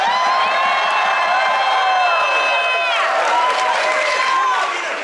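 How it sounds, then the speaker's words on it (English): Crowd at a political rally in Los Angeles cheering and whooping loudly, a continuous roar of many overlapping voices with scattered clapping beneath. "Let's give a round of applause."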